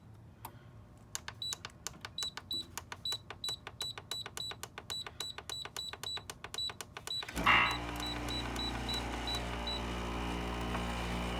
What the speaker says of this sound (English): this is the modern rotary compressor that I'm talking about, how they're so noisy